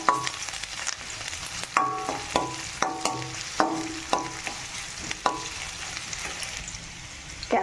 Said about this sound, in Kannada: ಫ್ರೈ ಮಾಡ್ಕೋಬೇಕು ಸ್ವಲ್ಪ. ಉದ್ದುದಾಗಿ ಹೆಚ್ಚಿಕೊಂಡಿರೋ ಈರುಳ್ಳಿ